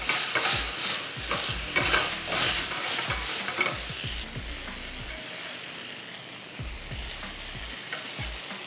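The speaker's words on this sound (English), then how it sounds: "So once they're nicely seared, a little golden color here" Soya chaap pieces sear in a hot pan with a steady close sizzle, broken by repeated scraping stir strokes and low knocks of the chunks being turned.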